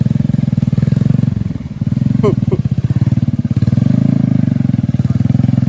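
A motorcycle engine runs loud and close with a throbbing, steady idle, dipping briefly then picking back up in revs, on an outing up to a tea plantation; no one speaks.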